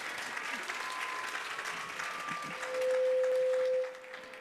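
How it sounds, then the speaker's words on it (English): Conference audience at an energy-access panel applauding steadily, a continuous crowd clap, with a sustained tone rising over it near the end. "Might we give them a round of applause, please?"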